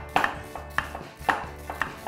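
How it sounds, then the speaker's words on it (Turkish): A knife chops onion on a cutting board in a home kitchen, giving about four distinct, evenly spaced close taps with softer knocks between them, and no one speaks. "İlk önce soğanı piyazlık doğruyoruz."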